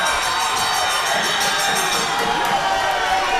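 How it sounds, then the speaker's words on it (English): A wrestling crowd roars in a continuous, dense wall of cheering and shouting at a match, loud and sustained throughout. "Listen to that crowd, Kevin. Listen to that crowd."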